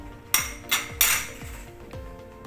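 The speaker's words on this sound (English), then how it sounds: "Make sure as you use this fork you do not scratch the sides of the pot" Metal fork knocking and scraping inside a non-stick electric pressure cooker pot while roasting kienyeji chicken with spices, a few close clinks and short scrapes spaced irregularly over a quiet background.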